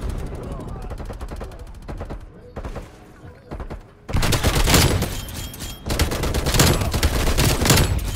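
Gunfire rattles through a Call of Duty match on the Nuketown map, starting as moderate shooting and then breaking into dense, loud bursts of rapid fire, with a voice talking underneath.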